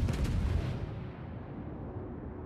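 Secondary guns of a Tirpitz battleship fire in a World of Warships ranked battle, a heavy booming blast at the start trailing into a long rumbling decay, loud and close with no talking.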